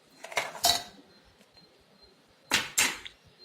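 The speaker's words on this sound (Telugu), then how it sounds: "తర్వాత ఐస్ క్యూబ్స్ వేసుకోవాలి." Ice cubes dropped into sweetened banana juice in a mixer jar land in two quick clattering bursts, each a few hard clinks close together, with a quiet pause between.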